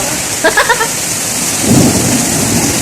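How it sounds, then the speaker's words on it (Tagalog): Heavy rain pours down in Bahrain, a dense, continuous hiss of falling water that swells louder in the second half, with a brief higher-pitched sound near the start. "Binuhos na ang ulan."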